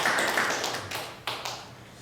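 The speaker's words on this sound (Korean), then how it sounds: "감사의 박수를 올려드립시다" A church congregation claps in thanks during a Sunday sermon, a faint, dense wash of hand claps that thins and fades, with a brief renewed burst partway through.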